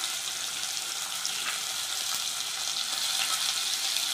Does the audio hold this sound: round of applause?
no